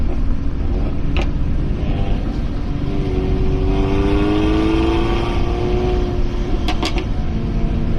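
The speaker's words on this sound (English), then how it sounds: "Got a good exhaust note." A car's engine and exhaust rev and accelerate on the Lakeside racing circuit in Australia, a steady loud drone rising in pitch as it passes, with no talking over it.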